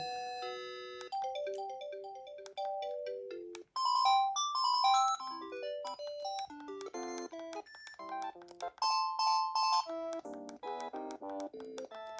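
A Panasonic KX-TGJ420E cordless phone ringtone plays a bright electronic melody of quick beeping notes in repeated phrases, clear and close, with no voices.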